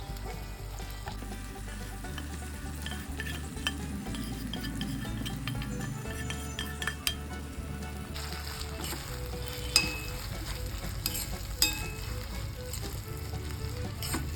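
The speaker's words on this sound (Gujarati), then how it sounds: "એડ કરી દઈશું જે હળદર છે એ આપણે અંદર એડ કરી દઈશું" Fresh turmeric sabzi sizzles steadily in a pan with ghee-roasted turmeric, while a utensil stirs and scrapes through it with occasional clinks, continuous and close throughout.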